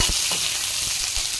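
Onions frying in hot oil with cinnamon, cardamom and cloves, a loud, dense sizzle close by, with soft low thumps as the pan is stirred now and then.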